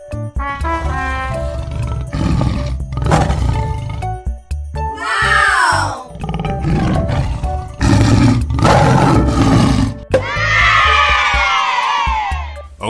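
Tiger roars ring out in several loud bursts, mixed with other growling animal calls and crowd-like shouting, all close and continuous.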